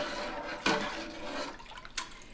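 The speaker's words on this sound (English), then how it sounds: "And we're going to give it a good stir." Milk being stirred in a stainless steel pot while making feta: a short, soft swirl of liquid with a sharper slosh partway through and a second smaller splash near the end, quiet and close.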